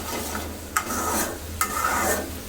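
Chili stir-fries in a pan while dried fish is cooked, a steady crackling sizzle punctuated by a few sharp scrapes of a spatula against the pan.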